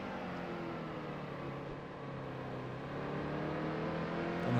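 NASCAR Cup race car engine at Martinsville in the NASCAR Heat 2 video game, a steady full-throttle drone that swells slightly louder toward the end, with no voices over it.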